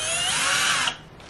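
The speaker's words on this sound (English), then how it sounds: "drill holes into all the marked areas with the twist drill bit" A power drill fitted with a twist drill bit whines steadily as it bores holes during closet organizing, loud and close, then cuts off abruptly and leaves quiet room tone.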